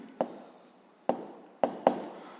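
Pen strokes writing a physics formula on paper or a board, four short distinct taps or scratches spaced unevenly, close and fairly quiet, with no voices.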